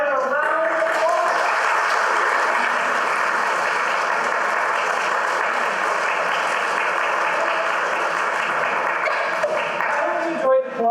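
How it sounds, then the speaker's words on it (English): Sustained audience applause for the actors after a senior readers' play performance, a dense steady wash of clapping that fills nearly the whole stretch before tapering off near the end. "Let's give our actors a round of applause."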